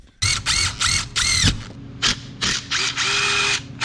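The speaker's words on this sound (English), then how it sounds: "So now I got to drill holes in this so this could get secured to the ceiling." A power drill whirs in several short bursts of a few seconds each, close and loud, drilling holes in a ceiling light-fan mounting, with brief pauses and clicks between them.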